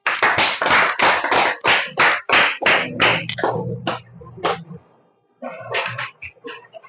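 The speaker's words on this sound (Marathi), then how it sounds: "यांच्यासाठी जोरदार टाळ्या होत्या" A small audience claps for a prize-draw winner who took a spray pump, with a quick run of sharp, close hand claps that thins out, stops briefly, then picks up again.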